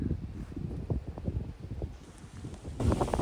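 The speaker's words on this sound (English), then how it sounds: "Sorry about the wind, but wow" Wind buffeting the microphone in low, irregular gusts and rumbles at an outdoor Christmas market in Friday Harbour, gusting harder near the end, with no voices.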